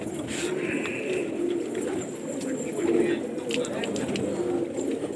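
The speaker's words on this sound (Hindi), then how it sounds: "ये बिलाल भाई के कबूतर की खुल्लत हो रही है, बिल्कुल नया कबूतर है।" Gola pigeons coo in soft, low, rolling calls amid a murmur of background noise, with occasional fluttering and clicks nearby.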